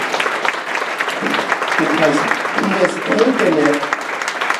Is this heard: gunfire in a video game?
no